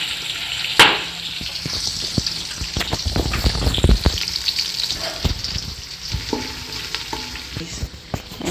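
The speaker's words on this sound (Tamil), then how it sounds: "இப்போ வெங்காயம் நல்லா வதங்கிடுச்சு." Onions and green chilies fry for chicken biryani, a steady close sizzle broken by scraping stirs and a sharp clank near the start.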